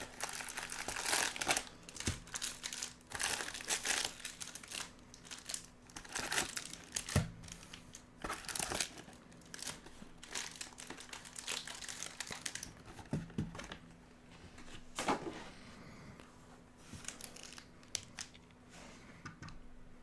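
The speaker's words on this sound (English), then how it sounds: "I'm gonna start cutting the plastic, guys." Plastic wrap on a box of 2023 Bowman Jumbo trading cards is cut and crinkled up close, a steady series of crackling, rustling bursts with scissor snips between them.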